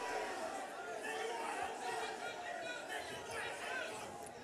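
Ringside crowd at a boxing match between MC Harvey and Jacques Fraser, a steady murmur of many voices filling the hall with constant, fairly even chatter.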